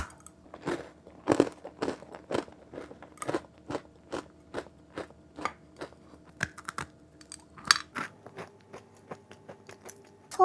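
Close, crisp bites and crunchy chewing of a chocolate-coated matcha snack, a steady run of sharp crackling crunches repeating every half second or so, with no talking.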